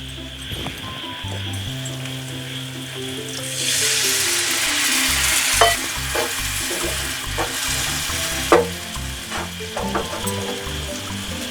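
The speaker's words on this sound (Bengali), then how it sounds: "এবার এর মধ্যে হালকা একটু জল দিয়ে দেবো।" Water poured into a hot frying pan while making egg Moglai paratha sets off a loud, steady sizzle that swells midway, with a few sharp crackles and pops and no one talking.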